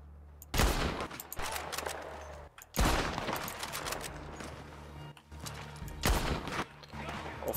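Gunfire in Red Dead Redemption 2 comes as repeated loud volleys of shots in clustered bursts, separated by short pauses, with a low steady rumble underneath.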